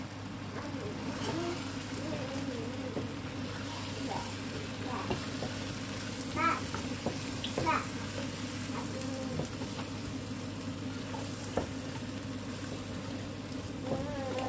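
Quail karahi with a little yogurt spatters and sizzles hard in a pan, a steady frying hiss broken by sharp pops and crackles throughout, heard close with faint background voices.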